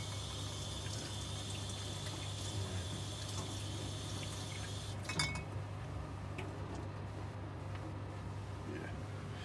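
Oysters are washed in running water in a kitchen, with a steady trickle from the tap and a few light clinks of shells or dishes, fairly quiet and close.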